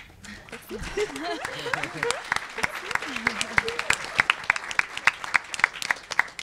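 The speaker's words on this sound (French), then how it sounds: "Merci d'avoir démarré les applaudissements" Scattered clapping at a public interview event starts under talk and laughter, then settles into a sparse, rhythmic run of distinct individual claps from a small group nearby.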